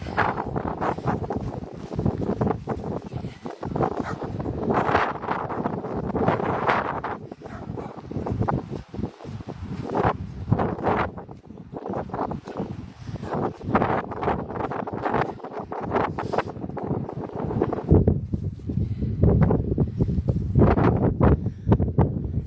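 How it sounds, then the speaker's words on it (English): Strong gusty coastal wind at Brixham on a dark evening, roaring across the microphone, continuous and buffeting throughout, with low rumbling surges and no voices. "It's very, very windy and it's cold."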